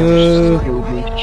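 A Lamborghini exhaust roars loud and steady with strong low harmonic bands, then drops in pitch and settles into a lower drone.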